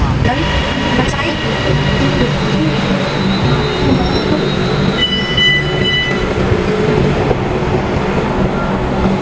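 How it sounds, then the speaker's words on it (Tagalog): A train pulls into a station in Thailand, a steady loud rumble of rail cars with brief wheel squeals and a chime, set against busy platform noise. "Dito kami mag-aantay ng tren."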